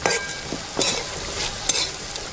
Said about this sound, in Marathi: चांगलं हे तेलात असं फिरवून घ्यायचं आणि आता आपल्याला हे चवीपुरतं मीठ टाकायचं आहे